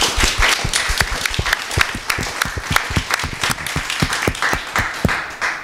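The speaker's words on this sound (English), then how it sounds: "Another round of applause for everyone." A room full of people applauding the panelists after a Q&A session, dense steady clapping that holds throughout, fairly loud and close.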